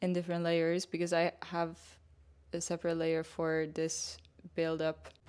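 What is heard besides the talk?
No distinct noise like a dog, phone or traffic.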